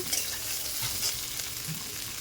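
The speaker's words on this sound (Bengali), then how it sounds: "দিয়ে দিলাম ক্যাপসিকাম, কাঁচা লঙ্কা কুচি। খুব ভালো ভেজে নেব।" Onion, capsicum and chopped green chili stir-frying in a pan for chow mein, a quiet steady sizzle broken by a few soft scrapes and taps of the spatula.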